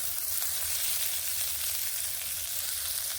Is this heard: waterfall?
no